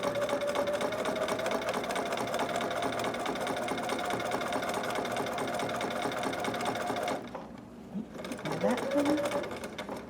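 Sewing machine stitching a fabric dragon or unicorn hood, a steady fast whirr for several seconds that halts, then restarts briefly, while someone speaks quietly over it.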